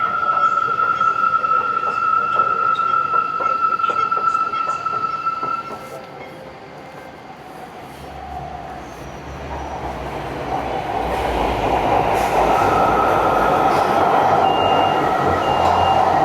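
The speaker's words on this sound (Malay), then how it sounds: "MRT dah sampai." An MRT train on Rapid KL near Klang, Malaysia pulls into a station with a steady rumble, a high wheel squeal, and rising mechanical noise as it slows and stops nearby.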